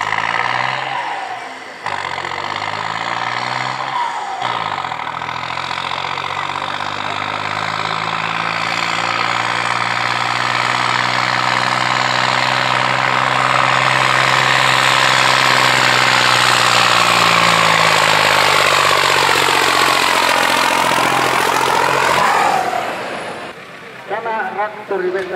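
A tractor engine at a tractor pulling event in Rantasalmi runs loud and steady for over twenty seconds, its pitch rising and falling slightly as it idles and revs, then cutting off near the end.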